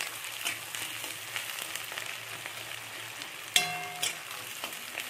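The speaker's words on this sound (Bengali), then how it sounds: "তো পেঁয়াজটা মিডিয়াম লাল লাল করে একদম ভাজা হবে।" Onion frying in hot oil with bay leaf, dry chilli and whole garam masala, a soft continuous sizzle with light stirring, broken by a sharp clink of a utensil against the pan.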